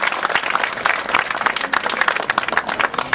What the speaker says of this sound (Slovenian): en aplavz še našemu šefu posebej